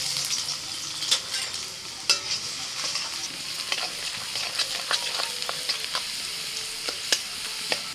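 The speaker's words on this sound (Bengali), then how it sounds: "কড়াইতে অল্প সাদা তেল নিয়ে ওর মধ্যে আমি দিয়ে দিচ্ছি আদা কুচি আর রসুন" Chopped ginger and garlic fry in a little white oil in a wok, a continuous close sizzle broken by scattered sharp crackles and pops, with no voices.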